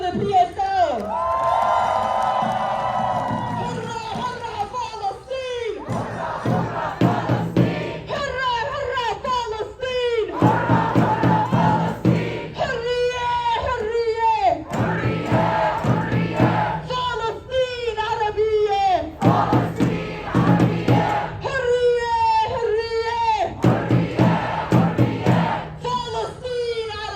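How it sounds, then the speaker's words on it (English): A night crowd gathered outside the State Department at a Gaza protest cheers and shouts loudly. The voices rise and fall in repeated chanting waves for about half a minute, with clapping mixed in. "Give one more round of applause for the PSL."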